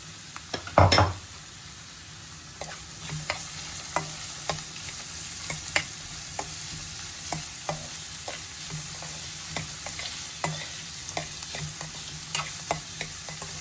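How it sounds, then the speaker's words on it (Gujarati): Garlic and onions sizzling in a pan as taco filling cooks, a steady low crackle with frequent small scrapes and clinks of a spatula against the pan, after a brief louder clatter at the start. "પછી એમાં ઓનિયન નાખી દેવાની."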